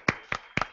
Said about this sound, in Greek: I wonder if there are men here that can give their wives a big applause tonight.